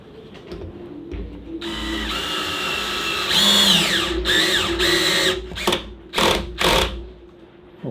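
Cordless drill driving screws to fasten a fabricated cover panel beside a boat cockpit, a close, loud whine ramping up in a long run, then several short bursts.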